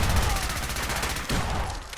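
Fallout 4 gunfire near a harbor settlement: a rapid, dense burst of close, loud shots rattling continuously, with a brief break partway through before the firing resumes.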